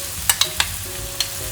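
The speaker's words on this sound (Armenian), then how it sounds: "Միանգամից միասին կավելացնենք եւ մի քանի րոպե շատ քիչ տապակելու ենք" Lentils and rice fry in a pan for pilaf with a steady low sizzle, broken by a few sharp clicks and scrapes of a spoon stirring them.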